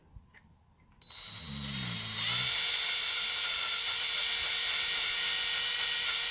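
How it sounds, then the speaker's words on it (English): An electric drill works bolts loose from the bed of a camper truck, spinning up after a second of quiet into a loud, steady, continuous whine that holds to the end. "Little drill in here"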